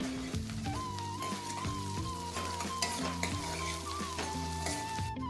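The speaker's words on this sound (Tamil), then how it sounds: "அதுக்கப்புறம் சின்ன வெங்காயம் சேர்த்து நல்லா வந்து வதக்கிக்கலாம்" Shallots sizzle in hot oil with mustard seeds, chillies and curry leaves for Erode-style chintamani chicken. A steady frying hiss runs throughout beneath prominent tonal background music.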